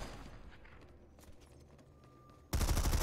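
Rapid automatic fire from an SMG 46 Armistice during a competitive first-person shooter match, a loud dense burst of gunfire that bursts in near the end after quieter game ambience.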